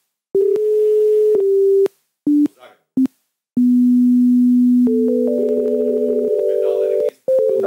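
Telephone line tones while dialling a classified-ad number: long, steady electronic tones broken by short gaps, then a higher two-tone pattern, clear and close with no talking.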